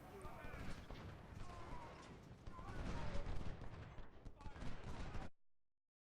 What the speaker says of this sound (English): his infantry recovered, and look, they're firing